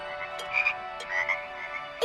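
Frogs croak in a steady chorus with sharper calls rising out of the drone, moderately loud and close, with no voices.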